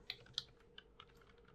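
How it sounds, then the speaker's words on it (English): Several quick key presses on a computer keyboard sound close up, a short run of four or five crisp taps in under two seconds. "If I type rand"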